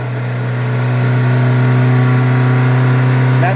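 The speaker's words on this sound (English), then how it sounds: "When I rev it up," A turbocharged Honda Civic EJ2 with a non-VTEC D15B7 engine revs up and holds a loud, steady high-rpm drone close by, droning continuously before dropping off at the very end.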